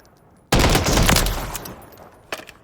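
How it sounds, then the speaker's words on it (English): Automatic fire from a CZ BREN rifle in Call of Duty Modern Warfare III, a loud sustained burst of rapid shots lasting about two seconds, then a brief final shot, with no talk. "So 6 to 8 shots right there."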